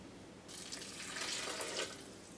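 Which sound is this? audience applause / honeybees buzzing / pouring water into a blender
pouring water into a blender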